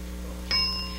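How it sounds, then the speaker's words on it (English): A single bright bell ding signalling the start of a round on the game show Blackout, ringing out clearly over a low studio hum and fading gradually. "start when you hear the bell"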